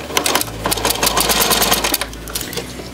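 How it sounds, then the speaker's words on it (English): Domestic sewing machine stitching quilt binding pieces together with a quarter-inch seam, a rapid rhythmic needle clatter over a low motor hum, close and steady with brief changes in speed. "I've come back over to my domestic machine now, and I'm using a 1/4 inch seam allowance and sewing the two pieces"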